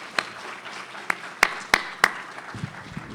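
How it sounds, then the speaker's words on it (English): Thin applause for panelists at a college food security summit: scattered individual claps, a few sharper ones in the middle, fading to quiet room sound. "Another round of applause for our panelists."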